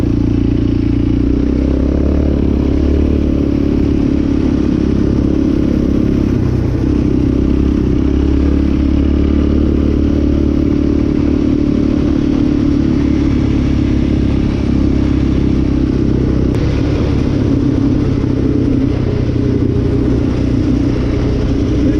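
Yamaha Raptor 700R sport quad engine droning steadily while riding a desert-to-mountain route, a continuous loud low rumble with wind and rattling throughout, no talk.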